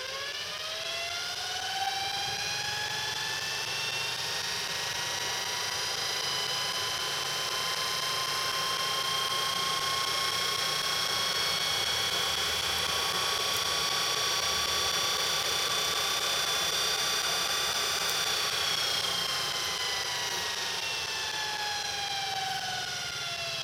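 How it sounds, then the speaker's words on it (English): A GE electric motor spinning up and running on an unsteady surface: a loud, close, continuous whine whose rising harmonic tones climb, hold steady, then begin to fall. "Do another spin up here."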